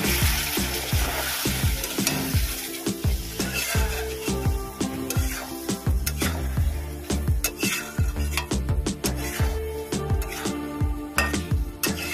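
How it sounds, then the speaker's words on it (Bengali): Masala with cashew paste being fried and stirred in a pan for a Bengali dhoka curry: fast, rhythmic spatula scrapes and knocks over a continuous bubbling sizzle, loud and close, with no voices. "এটা ভালো করে কষিয়ে নেব"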